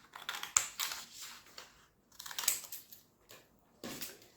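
Scissors cutting a paper sewing pattern, a series of soft crisp snips in short bursts with brief pauses, close and quiet.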